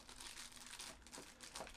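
Plastic bag crinkles continuously as a Palm Treo 700p phone is pulled out of it, soft and close, with rustling bursts and a louder crackle at the end.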